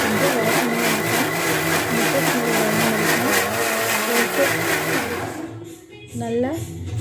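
A mixer grinder blends ragi flour batter with a little cardamom, roaring loudly and steadily for about five seconds, then stopping and briefly whirring again.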